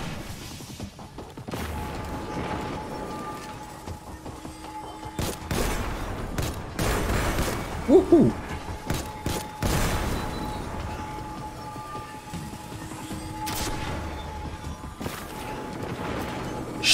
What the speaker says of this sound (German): da ist gerade eine Menge explodiert